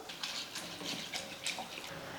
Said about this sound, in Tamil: தண்ணியில் ஒரு டைம் அவலை கழுவி எடுத்துக்கலாம்.